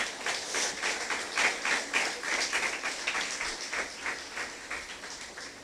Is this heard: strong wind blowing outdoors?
no